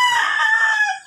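A rooster of the Texas gamefowl type crows once, loud and close, its drawn-out harmonic call holding steady before tapering off at the end, in Nueva Ecija after a typhoon.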